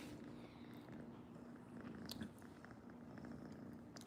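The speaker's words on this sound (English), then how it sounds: "This is my cat, Sushi." Steady low purring from a young cat held close, a continuous rumbling drone with faint rustling on top, alone and fairly quiet throughout.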